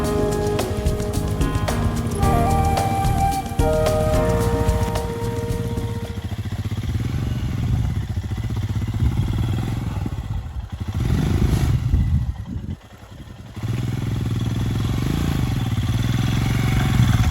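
Off-road motorbikes ride a dirt trail through Ratanmahal Wildlife Sanctuary in Dahod, Gujarat, their engines droning steadily and loud throughout with rattling clatter, while an early stretch carries music over the engine noise.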